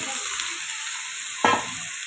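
Chicken pieces go into a hot pan of frying ginger garlic paste with a loud burst of sizzle midway, over a steady close hiss of oil before and after; no talking.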